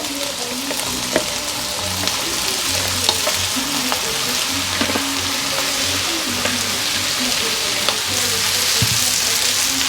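Chopped pak choy and mustard greens sizzle and fry steadily in a hot pot as a Guyanese bhaji cooks. The crackle is continuous and close, with scattered sharper pops and no talking.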